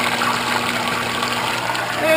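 A pond filter pump sprays water back into a home bait tank holding white perch, a steady close splashing trickle over a low motor hum, with some talk over it.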